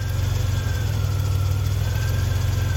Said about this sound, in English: our clutch is about to activate